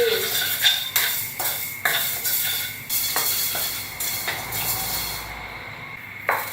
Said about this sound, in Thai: ค่อยๆคั่วไฟอ่อนนะคะ ไปเรื่อยๆเลย ให้ข้าวแบบเหลืองหอมสุกดี